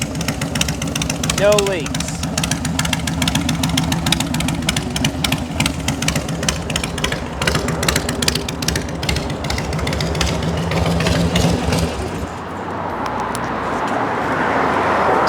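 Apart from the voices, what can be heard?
motorcycle engine idling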